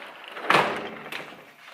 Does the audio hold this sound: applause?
no